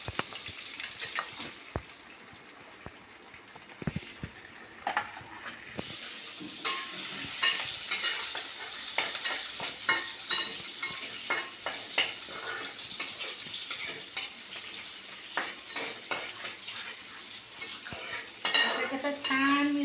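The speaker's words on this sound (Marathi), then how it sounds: "आता कांदा घालूया याच्यात." Onion frying in hot oil with chilli and bay leaf in a pan, a steady loud sizzle with frequent sharp scrapes and clinks of a spoon stirring against the metal, continuing throughout.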